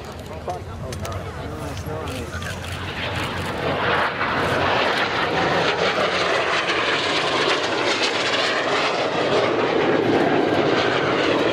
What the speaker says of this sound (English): The Percival Provost piston aeroplane.